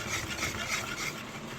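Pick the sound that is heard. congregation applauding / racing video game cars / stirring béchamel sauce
stirring béchamel sauce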